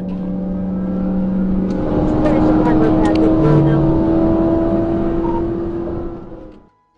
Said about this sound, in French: un grondement sourd s'élève. Celui d'un moteur qui refuse de mourir.